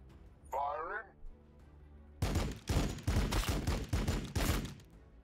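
Weapons fire in Warhammer 40K Battlesector: after a brief high-pitched electronic tone and a pause, a heavy volley of about six loud, booming shots comes in quick, uneven succession.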